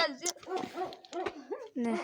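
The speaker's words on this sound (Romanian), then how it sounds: "Uite cățelul." A small dog yips, barks and whimpers in quick, close bursts outdoors by a shop door, with people talking alongside.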